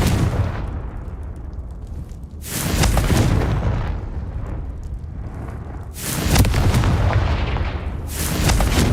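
Two heavy Confringo fire-spell explosions in Hogwarts Legacy, each a loud broadband blast trailing off into a long, rumbling decay, the second coming several seconds after the first.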